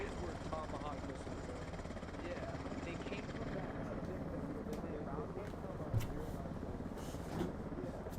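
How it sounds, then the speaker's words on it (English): An enemy helicopter in a military simulation game drones steadily as a low rotor rumble throughout, with faint voices underneath. "Enemy helo just went down."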